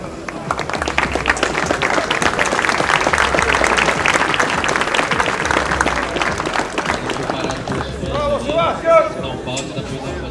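A tennis exhibition crowd in Rio de Janeiro claps and cheers steadily throughout, with a voice calling out over the applause near the end.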